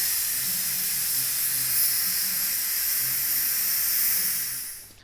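Steam hisses steadily and loudly from a pressure cooker after about 25 minutes of cooking beef brisket, a continuous close rush that tapers off at the end.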